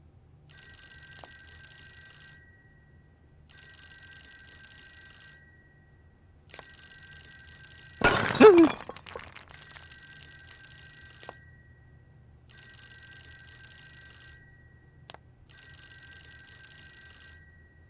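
An old-style telephone in the game Fork Road rings in evenly spaced trilling bursts, about six rings with quiet gaps between, interrupted once by a sharp burst of noise.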